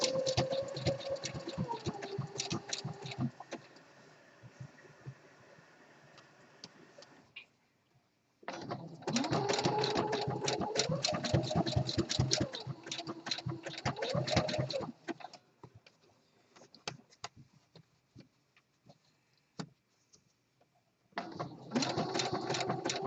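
A home sewing machine stitches an elastic waistband onto boxer briefs in rapid rhythmic bursts of needle clatter, starting and stopping between runs with quiet gaps, the motor pitch rising and falling as the speed changes.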